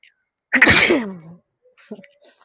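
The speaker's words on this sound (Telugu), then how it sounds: "తుమ్ములు వస్తున్నాయి అనమాట ఏమనుకోకండి" A single loud, close sneeze bursts out, followed by a faint breath and a few soft sounds afterward.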